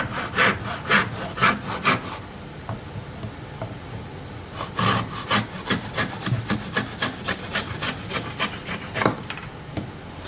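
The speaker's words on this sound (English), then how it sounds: "Now I'm going to cut it to length." Handsaw cutting a turned wooden chair spindle to length, brisk rhythmic back-and-forth strokes in three bursts with brief pauses between, close and moderately loud, no talk.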